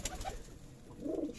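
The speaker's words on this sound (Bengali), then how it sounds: "এটা হলো আমার ঢাকাইয়া কবুতর, 3 মাস পরে ফেরত এসেছে বিক্রির।" Dhakaiya pigeons coo in a short, soft burst, a low rolling call rising near the end after some faint rustling, close by in a quiet coop.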